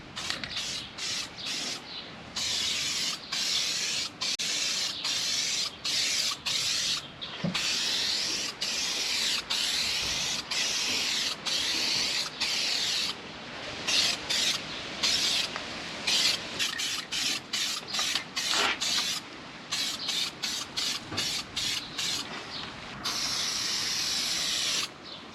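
A spray can of primer hissing in long, steady bursts with brief pauses as it coats a car's engine bay; close and continuous, with no talking.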